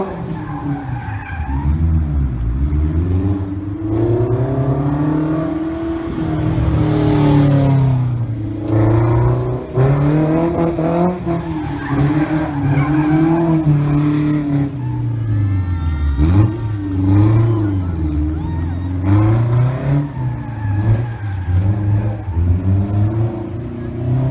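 A Factor Aurelio mid-engine, rear-wheel-drive car spins continuous donuts, its engine revving and wailing in rising and falling sweeps with tire squeal and skidding throughout, loud and close.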